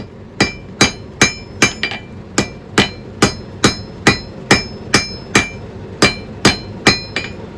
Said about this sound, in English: This is the horn of the anvil. It lets me squeeze out that little point